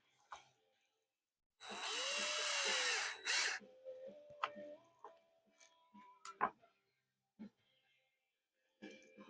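A power tool whirs in two short bursts while driving screws into a two-tank cyclone filter-separator, followed by scattered clicks and taps of handling parts in a quiet workshop.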